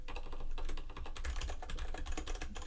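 A computer keyboard typed quickly as a web address is entered in the Firefox browser, with dense, close, crisp key clicks running continuously through the short stretch and no voices.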